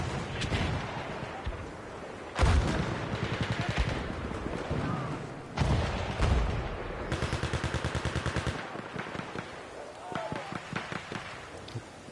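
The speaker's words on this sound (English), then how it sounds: "Lizard is shooting mortars" Mortar fire in a competitive shooter video game: a series of heavy booming blasts mixed with sharp gunfire and a rapid rattling burst, loud and close, with people talking over the action.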